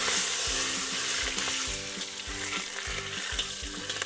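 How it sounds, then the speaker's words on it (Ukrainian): Onion pieces frying in a cauldron over a campfire outdoors, a bright steady sizzle of hot oil with rhythmic scraping and stirring strokes against the metal, close and loud with no talking. "І отакою обжарюю тут прямо"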